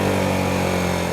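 A Harley-Davidson Sportster S engine revs freely in second gear on a night ride along an expressway, a steady dense roar that stays loud and continuous throughout.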